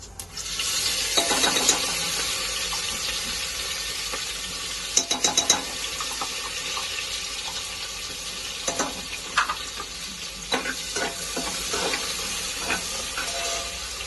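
Ginger-garlic paste with cumin seeds frying in a hot pan for soyabean pulao, a loud, continuous sizzle and hiss with scattered stirring clicks and scrapes, close up and without talk.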